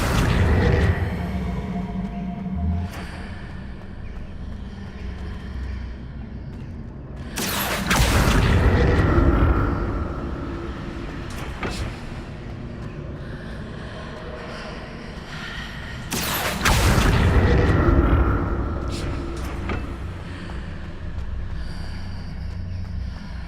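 Two heavy magical bursts of the Accio summoning spell in Hogwarts Legacy, each a loud broadband whoosh and boom about eight seconds apart over a rumbling game soundscape with fainter clicks and effects.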